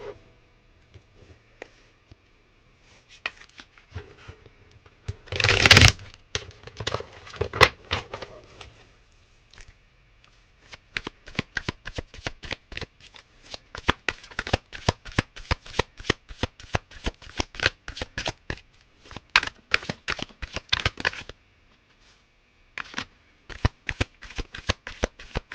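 Regular deck of playing cards shuffled by hand in a quiet room, with one loud riffle burst early on and then long runs of fast, crisp card flicks and short pauses.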